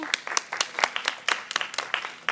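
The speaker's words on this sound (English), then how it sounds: "Let's give him a round of applause, please." A short burst of hand clapping from a small group at a school classroom debate, quick and uneven, fairly close, with no talking.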